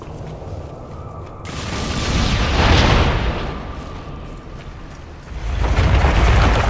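A heavy explosion in Dragon Age: Inquisition swells into a loud rumbling boom, fades, then a second deep blast rolls in, both close and filling the scene with low roaring debris.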